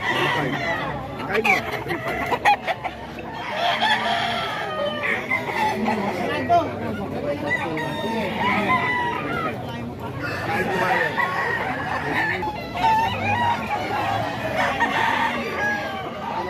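Flock of chickens and roosters crowing and clucking continuously around a man's yard, with people chattering over the birds throughout.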